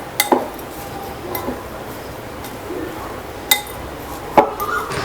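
Chicken momo filling being stirred in a bowl, with a few sharp, sparse clinks of utensil against the dish over a quiet room background and no talk.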